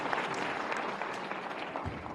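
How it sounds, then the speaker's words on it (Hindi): Audience at a youth dialogue event in Bhopal claps steadily in a dense, continuous burst of applause throughout, from a large crowd heard from within the hall. "जोरदार ताली बजा दो"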